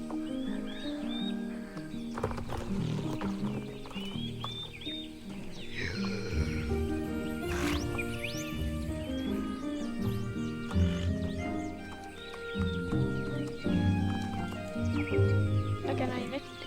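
In the video game Star Stable Online, a horse whinnies and its hooves clip-clop amid layered game music and ambient bird calls, with a voice talking over the sounds throughout.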